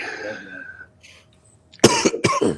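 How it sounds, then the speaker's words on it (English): A person coughs twice in quick succession, loud and close, after a few seconds of quiet. "The more I talk, the more I cough."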